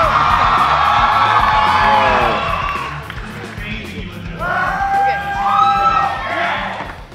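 A large audience at a New York Comic Con panel for The Walking Dead cheers loudly, with whoops, yells and high shrieks over a roaring crowd that dips briefly and then surges again.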